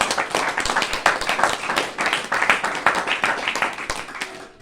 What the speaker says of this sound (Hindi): तालियां सबके लिए।